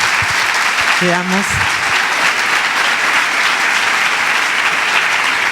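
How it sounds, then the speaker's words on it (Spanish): Large audience applauding steadily and loudly at a talk on accompanying vulnerable and excluded people, with a brief spoken phrase over the clapping near the start. "Un aplauso grande."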